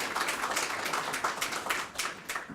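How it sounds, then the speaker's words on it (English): Audience at a veterans house opening ceremony clapping for donors and partners, a short burst of scattered, fairly close handclaps that holds steady throughout. "Let's all give them a round of applause with our donors and our partners."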